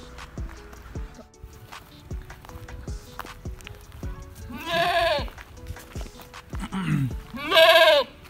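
Goats bleat in a village yard: two loud, wavering bleats stand out near the end, with quieter rustling, footsteps and faint background sounds before them.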